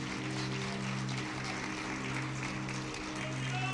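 Applause from a congregation at a family church celebration, a soft, distant wash of clapping held under a steady low musical drone, with a voice faintly present.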